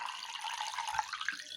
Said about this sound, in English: Let's assume that I put water in this particular plate now.